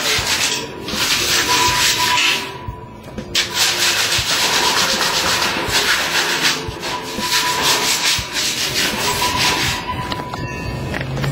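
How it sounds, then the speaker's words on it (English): Sandpaper scrubbing rust off a painted metal bed frame, loud continuous rasping strokes in a fast back-and-forth rhythm with a brief pause, close up and alone. "All the cracks you see is rusty. You have to do with the sandpaper."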